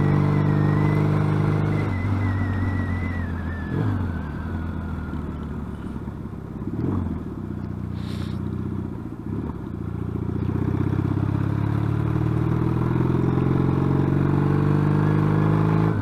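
A Yamaha XS650 motorcycle fitted with peashooter exhausts rides along with a steady, loud engine drone that rises and falls as it revs and shifts, continuous throughout with no talking.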